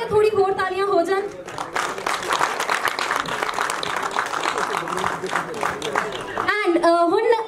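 Audience applause at a Punjabi film promotional event, a sustained burst of dense clapping lasting several seconds, bracketed by someone speaking into a microphone before and after.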